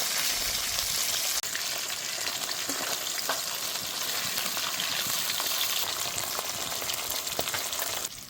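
Hilsa fish frying in oil fill the air with a loud, constant crackling sizzle from close by, with occasional stirring knocks and no voices.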